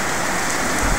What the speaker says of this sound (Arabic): هنا في بجاية أمطار غزيرة جدا